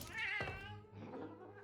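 A cat gives a loud, drawn-out meow that rises into a wailing caterwaul, then a second softer, lower meow follows close by.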